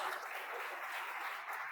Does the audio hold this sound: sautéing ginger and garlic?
no